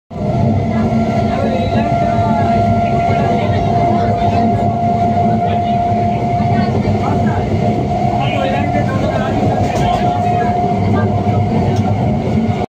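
Heavy rain pours over a train standing at a station, making a loud, dense and unbroken roar that lasts the whole stretch.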